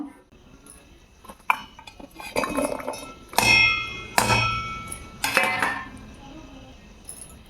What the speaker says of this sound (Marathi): आता आपण याला वाटून घेऊ बारीक असं